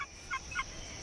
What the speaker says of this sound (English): Here he is, the Victoria's rifle bird.